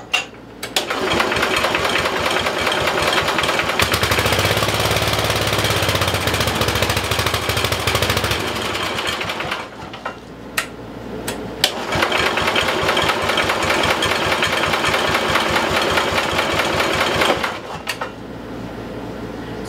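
A 1973 Simplicity 738 mower's small engine runs loud and close, sputtering and cutting out briefly midway before catching and running again, then stopping near the end.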